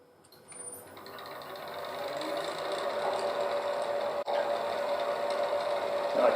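A hollowing tool fitted with a straight cutter works down into the corner of a wooden piece, a steady whirring hum with a faint tonal whine that builds and holds, broken by one brief sharp dip.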